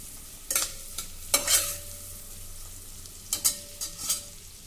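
Pumpkin sautéing in butter in a pan, with a soft steady sizzle broken by several sharp scraping stirs of a spoon, close and moderately quiet with no voices.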